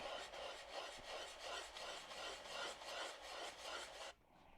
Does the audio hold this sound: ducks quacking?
no